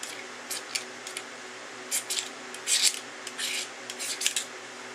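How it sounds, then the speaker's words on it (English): A knife's back edge scrapes a magnesium bar into shavings, heard as a run of short, close, soft rasping strokes in uneven bursts with brief quiet gaps between them. "we're going to start with scraping mag shavings. I'm going to use the back edge of the blade"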